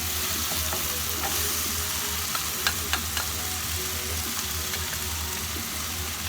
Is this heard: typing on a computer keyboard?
no